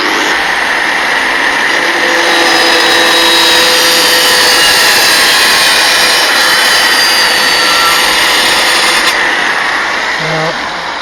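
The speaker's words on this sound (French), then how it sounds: "je vais vous montrer comment on disque la partie du bas en mettant une grosse pierre à l'intérieur" An angle grinder disc cutting the bottom of a terracotta pot weighted with a large stone inside, a loud continuous high-pitched grinding whine, close and sustained throughout.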